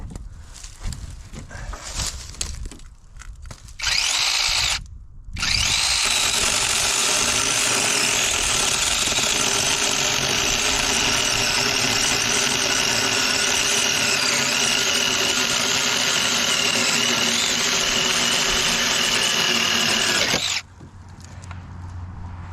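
A battery-powered chainsaw gives two short bursts, then runs as a loud, steady high whine for about fifteen seconds before cutting off, with quieter handling noise before and after.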